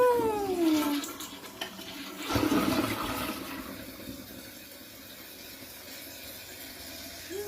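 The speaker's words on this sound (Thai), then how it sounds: "อ่ะคราวนี้เราลองมาชักโครกดูนะคะ" A toilet that has just had its fill valve replaced is flushed, giving a sharp rushing gurgle of draining water, then a softer, steady hiss and trickle as the tank refills. No one speaks.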